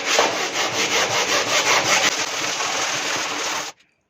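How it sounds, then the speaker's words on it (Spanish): Sandpaper rubs back and forth across the wooden hull of a handmade kayak, a loud, close, rhythmic rasping scrape in even strokes that stops abruptly near the end. "Ahora vamos a lijar un perímetro ancho"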